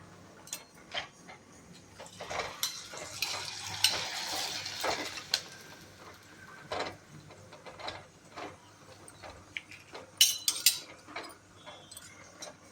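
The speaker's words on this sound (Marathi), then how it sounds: "आता ज्वारीचा पापड आपण तळून पाहूया." Thin jowar (sorghum) papad deep frying in hot oil, bursts of crackling sizzle that swell and fade, with light clinks and taps of a utensil in a quiet kitchen.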